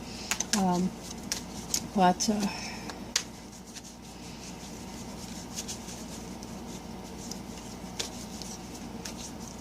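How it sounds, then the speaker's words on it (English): A reader handles and shuffles tarot cards in short papery riffles and rubs, brisk bursts up front then softer handling, with a voice talking in the background. "I just will shuffle them a little bit to get more in touch with the Aquarius energy right now."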